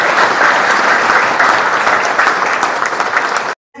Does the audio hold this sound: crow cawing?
no